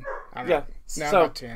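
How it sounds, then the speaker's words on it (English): A puppy barks in the background while people hold a relaxed conversation, its short yips sitting under the nearby voices. "Sorry if you can hear the puppy barking in the"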